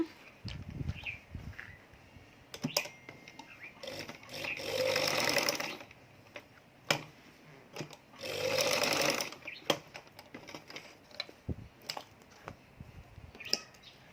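A sewing machine stitches a tailored collar in two distinct bursts of about a second and a half each. Quiet handling clicks and fabric rustle fill the gaps, all heard up close.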